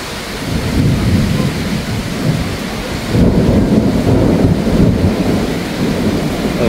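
A sudden thunderstorm in Izmir gives a loud, continuous roar of heavy rain with low thunder rumbling beneath it. The rumble swells partway through, and no one speaks.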